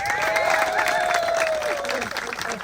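At a community ballot-measure gathering, a crowd claps steadily while one voice holds a long whooping cheer over the applause, which stays fairly loud throughout.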